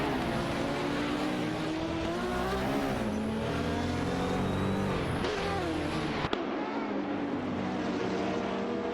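Porsche 917 race cars, a 917/71 and a 917/20, roaring in a racing video game, engine notes rising and falling steadily and loud up close, with a sharp click before the sound thins near the end.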